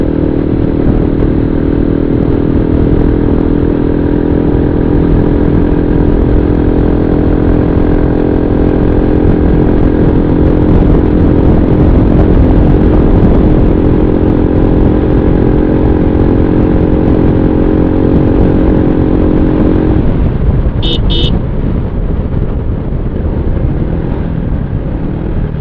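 A motorcycle cruising along a road on a tour from Dhaka to Chandpur, its engine droning steadily and loudly under heavy wind rush, with the engine note dropping near the end as it slows.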